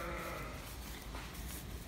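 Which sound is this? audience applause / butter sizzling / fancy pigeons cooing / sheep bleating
sheep bleating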